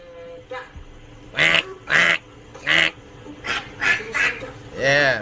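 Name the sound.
person imitating a duck quacking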